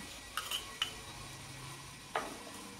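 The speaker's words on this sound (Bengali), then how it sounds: "এটা এখন আমি ব্যাটারটার মধ্যে মিশিয়ে নিলাম।" A milk mixture being stirred into butterscotch cake batter: a few soft, separate scraping strokes against the bowl, quiet and close, with still pauses between them.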